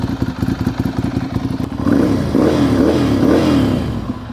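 A Ducati Monster 796 from 2014 fitted with a genuine Akrapovic exhaust, first idling with a lumpy, pulsing rumble, then revved several times in quick throaty bursts, close and loud.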